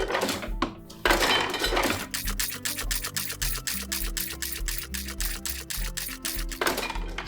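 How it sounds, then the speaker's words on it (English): Ink disc on a printing press turning in a rapid run of evenly spaced metallic clicks and ratchet ticks over a low mechanical rumble, the steady rhythm bracketed by short louder scraping bursts at start and end. "The ink disc will turn by like 5 to 10 degrees. So we'll do a couple of rounds."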